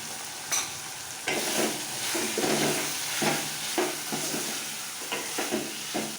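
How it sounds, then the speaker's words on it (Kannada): Chicken curry masala frying in oil in a pan, a steady close sizzle with scraping stirring strokes at irregular intervals. "ಇದು ಎಣ್ಣೆ ಎಲ್ಲ ಬಿಟ್ಕೊಳ್ಳೋವರೆಗೂ ಫ್ರೈ ಮಾಡ್ಕೊಳ್ಳಿ"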